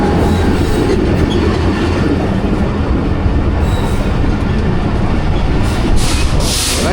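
The Hazara Express rumbles past on the rails, a loud, steady roar of wheels and carriages with faint clattering and squeals, unbroken for the whole stretch.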